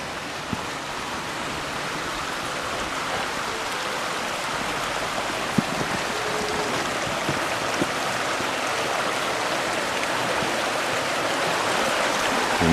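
Creek water flowing steadily at a trail crossing near a lake, a continuous broadband rush with no talk, holding at an even, fairly close level throughout.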